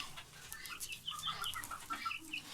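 Backyard chickens in a small poultry flock cluck softly and intermittently, a few nearby birds making quiet murmuring calls over faint background noise.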